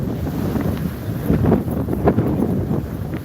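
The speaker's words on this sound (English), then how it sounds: "The wind is so strong. It's so strong. It's even hard to talk." Strong seaside wind in Istanbul roaring and buffeting the microphone close up, loud and unbroken, with surf churning underneath and no one speaking.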